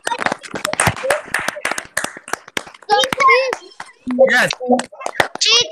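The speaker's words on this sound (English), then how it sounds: "Please, I'd like to hear applause." Young children in a first-grade classroom clap in scattered sharp bursts, individual claps loud and close, while children's voices chatter and call out between and over the clapping.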